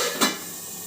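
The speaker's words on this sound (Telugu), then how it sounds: "మూత పెట్టుకుందాం" A lid set down on a cooking pot of mango chutney with water added, one brief clatter near the start over a quiet, steady background hiss.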